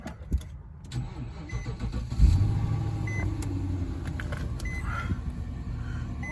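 An Infiniti/Nissan car with a cylinder misfire cranks and fires up, then settles into a steady, close idle with a low engine drone and small clicks and knocks, no talking.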